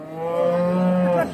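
A single long, deep moo from a cow at a busy rural cattle market in Charmonai, Barishal, close and loud, lasting about a second before tailing off.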